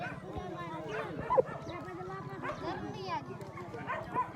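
A teased dog barks and yips in short, repeated outbursts close by, mixed with people talking over it throughout.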